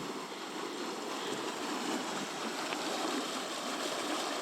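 Tidal water flows out of a marina through big lock-style gates, a broad, steady rushing roar that stays loud and unbroken throughout with no voices.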